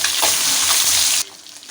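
Snakehead fish sizzling in a wok of hot oil after being flipped, a loud hissing fry lasting just over a second before it drops abruptly to a quiet background.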